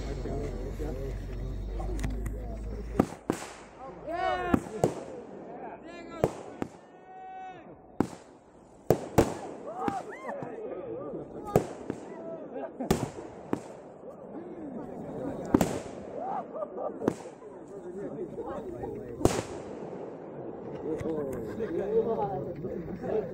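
Effigy of Diego de Landa burning in an open fire outdoors, with loud sharp firecracker-like pops and crackles bursting irregularly throughout amid a steady roar, while a crowd chatters and calls out in the background.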